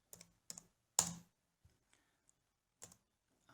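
Sparse computer keyboard key presses tap out a short command, about half a dozen distinct clicks with one sharper keystroke and quiet gaps between them.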